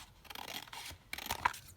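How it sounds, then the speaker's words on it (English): Scissors cutting green paper up close, a few quiet crisp snips and rustles in short bursts. "But I'm just going to cut that down"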